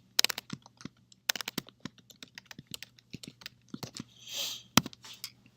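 Git config commands typed on a computer keyboard: crisp, close key clicks in uneven bursts with short pauses, alone against a faint low hum.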